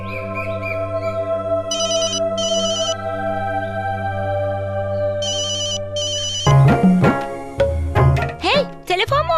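A mobile phone ringtone plays a steady electronic melody with repeated chirping trill bursts, loud and close, then gives way to voices talking and music over the last few seconds.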